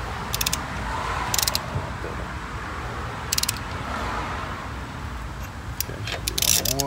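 Torque wrench tightening a wheel on a 2011 Kia Soul during a rear brake and rotor job, giving several short sharp metallic clicks in spaced bursts over steady background noise.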